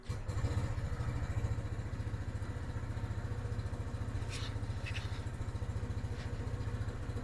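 A Lifan KPV 150 scooter engine idles with a steady, chugging putter, close and constant throughout, with a few faint clinks over it.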